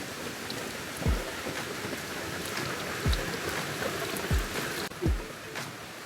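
Rain falls at a campsite as a steady, moderate patter and wash, broken by several low thumps that recur every second or two.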